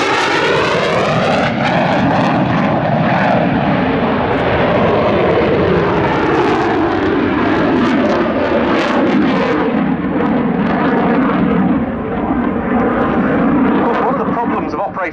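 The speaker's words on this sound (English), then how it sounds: "a very rare chance to see a Danish F-16 in a flying display in the UK" Loud, roaring jet engine of a Royal Danish Air Force F-16 during a flying display at Yeovilton Air Day, a sustained powerful roar sweeping in pitch as the fighter passes, with a commentator's voice audible throughout.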